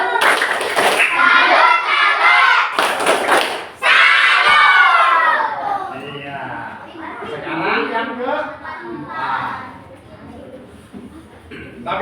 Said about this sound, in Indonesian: Ayo kita tepuk salut lagi.